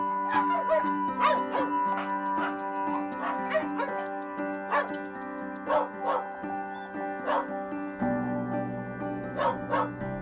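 Several dogs held in an enclosed shack on a dog meat farm bark and yip repeatedly in overlapping bursts, with whimpers mixed in, close and loud throughout.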